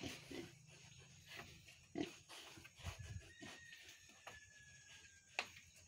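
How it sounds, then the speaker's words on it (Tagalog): Pigs grunting and oinking in a piggery pen, several short, close grunts and snorts rising irregularly over a faint steady background hum, with no talk. "50 to 60 ka baboy depende sa ano baboy bang pang-litson or hindi"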